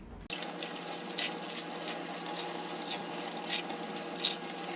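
Water from a kitchen tap gushes steadily and close by over eggshells being rinsed, with small splashes and clinks breaking through the constant stream.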